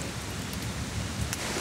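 Light rain falls on a damp, drizzly morning, a soft, even hiss of drizzle with faint patter, steady and fairly quiet throughout.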